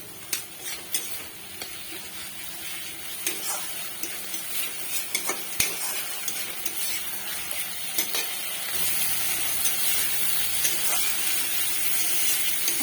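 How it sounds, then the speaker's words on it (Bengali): Tomato and spice masala stirred in a frying pan over a raised gas flame, with a steady sizzle of oil throughout and scattered scraping spoon strokes and clinks, growing denser toward the end. "টমেটোটা দেওয়ার পরে এটা ভালো মতো নাড়াতে থাকবো।"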